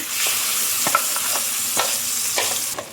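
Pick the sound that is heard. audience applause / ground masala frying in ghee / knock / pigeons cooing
ground masala frying in ghee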